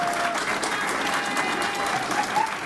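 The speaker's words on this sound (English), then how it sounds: "let's give our Executive Director, Jay Harrigan, a round of applause" Warm round of audience applause at a chamber of commerce awards presentation for its executive director, brisk continuous clapping with a faint murmur of voices mixed in.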